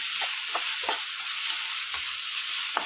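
Chopped tomatoes sauté in a pan as the base of a fish curry, giving a steady close sizzle with a few soft taps of a spoon stirring through it.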